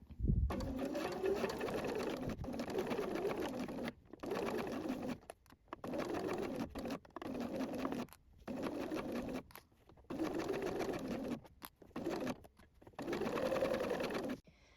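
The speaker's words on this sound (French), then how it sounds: "on va coudre à 1 cm du bord" A domestic sewing machine stitches a garment seam in repeated bursts of steady mechanical whirring, stopping and restarting about ten times, while a pigeon coos faintly in the background.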